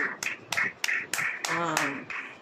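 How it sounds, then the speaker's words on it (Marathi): Hands clap in praise at a Christian prayer meeting, a slow series of sharp, separate claps close by while a person speaks over them. "जोराने टाळी वाजव. प्रभूसाठी टाळी वाजव."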